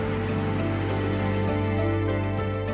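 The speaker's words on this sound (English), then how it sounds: "Italy is raining heavily tonight." Heavy night rain in Italy falls as a steady, dense hiss with scattered distinct drops striking surfaces, continuous and fairly loud, with no one speaking.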